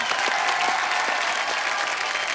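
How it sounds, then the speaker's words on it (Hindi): A studio audience at a television comedy talk show bursts into dense, sustained applause, a steady wash of many hands clapping at even loudness throughout. "एक बार जोरदार तालियां।"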